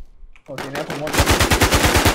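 Gunfire in the video game Infestation, a few scattered shots followed by rapid, sustained automatic bursts growing louder, with a voice briefly audible underneath.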